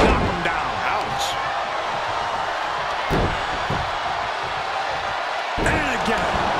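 A wrestler hits the ring mat in a pro wrestling match, with a few sharp thuds and slams standing out over a steady crowd roar, while a commentator speaks over the action.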